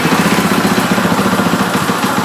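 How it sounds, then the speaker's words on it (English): A 2015 KTM 500 EXC dirt bike with an Akrapovic exhaust idles steadily up close, a loud, even low throb with a fast regular pulse and no revving. "I'll show you how it sounds with that Akrapovic exhaust"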